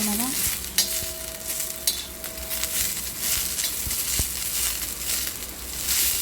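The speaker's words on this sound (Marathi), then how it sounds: "अपने गवार एकदम मस्त ते भाजत है इथे" Cluster beans (gavar) dry-roast in a pan while being stirred, giving a steady low sizzle with soft scraping and a few sharp clicks, close up and with no voices.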